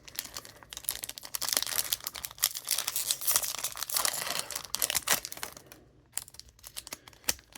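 A Bloomburrow Magic card booster pack wrapper is torn and crinkled open, with dense crackling foil crunches running several seconds before a short pause and a few final crinkles.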